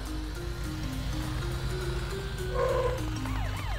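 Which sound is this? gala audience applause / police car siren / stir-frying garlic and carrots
police car siren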